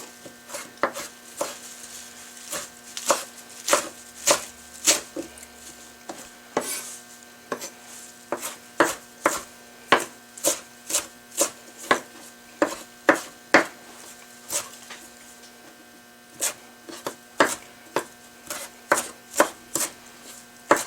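A knife chops guacamole ingredients into small pieces on a board, a steady run of sharp, close knocks repeating about every second, with no voices.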